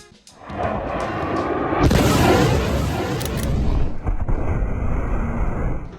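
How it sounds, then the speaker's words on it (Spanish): A deep, broad roar from a jet aircraft's sonic boom swells and rumbles for several seconds, loud and sustained, without speech. "algunas explosiones sónicas como esta no tienen ese icónico cono de vapor"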